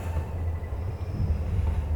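Rumbling interior of a long-distance passenger train travelling from Shanghai to Kunming, a continuous low rolling drone with faint clatter, steady and close, no voices.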